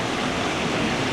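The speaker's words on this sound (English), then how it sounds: "turning the Jacuzzi facility on, getting some water pumping through." Hot tub jacuzzi jets pump water in a steady, dense rushing churn, loud and unbroken throughout with no voices.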